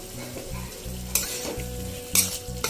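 Mutton liver curry with green chillies and garam masala being stirred in a hot pan, a close steady sizzle broken by rhythmic spoon scrapes and two sharper clanks against the pan.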